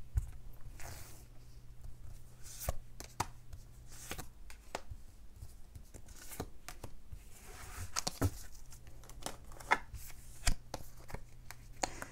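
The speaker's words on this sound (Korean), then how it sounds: "오늘도야 제가 추가 카드 빠르게 뽑고요." Tarot cards are shuffled and drawn, producing quick papery riffles, slaps and soft flicks in irregular bursts, close and moderately quiet, over a faint low hum.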